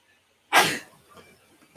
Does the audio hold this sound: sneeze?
yes